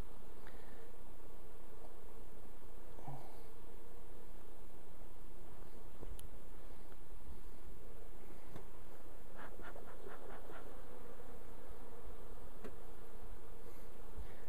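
Honeybees swarm around a hive frame holding brood, giving a steady, close hum of many buzzing wings with faint scattered rustles and no voices.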